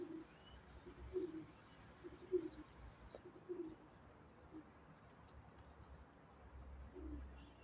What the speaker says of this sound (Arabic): مشكلة مش راح تنزل الحمام